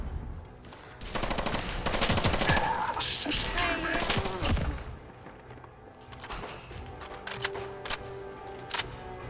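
Gunfire in the video game Fallout 4, with loud bursts of automatic weapon fire and explosive blasts dense in the first half, then scattered single shots and impacts, with faint background game sounds.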